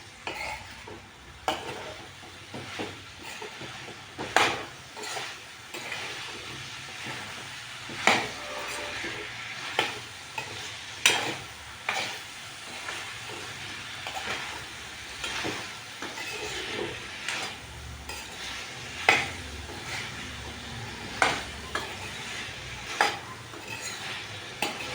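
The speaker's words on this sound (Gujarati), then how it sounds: "હલાવી લઈશું." Cauliflower, potato and peas frying in oil are stirred in a pan, producing a steady close sizzle with repeated scraping and clinking strokes throughout and no voices.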